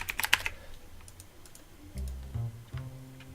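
Computer keyboard keys tapped to enter an administrator password on a Windows Server 2019 machine: a quick burst of close clicks at the start, then sparse single taps, with low thuds later.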